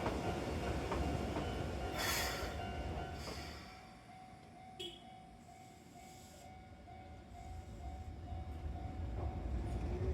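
A train moving near the depot on the Ishiyama Sakamoto Line by Lake Biwa, its low rumble and faint wheel squeal steady at a moderate distance, with a few brief clanks.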